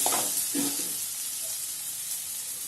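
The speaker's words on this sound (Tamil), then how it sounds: "இப்போ எல்லாத்தையும் மொத்தமாக கிளறி விட்டுக்கணும்." Eggplant curry being stirred in hot oil: a dense, steady hissing sizzle with a couple of soft, low stirring movements near the start, close and continuous, with no talking.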